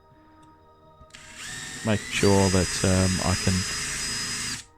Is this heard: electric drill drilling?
yes